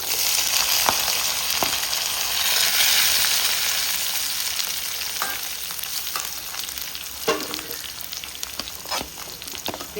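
Two large chopped onions fry in a pan of hot oil with tempering spices for prawn thokku, producing a steady close sizzle with occasional scrapes and clicks of stirring.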